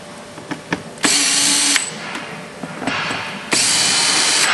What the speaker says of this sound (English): Take your T25 bit.